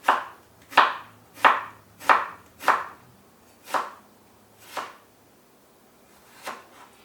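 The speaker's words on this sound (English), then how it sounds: "Half an onion. Slice it up reasonably fine." A knife slices through half an onion on a cutting board in eight crisp, close chops, quick and regular at first, then spacing out and softening toward the end, with no voices.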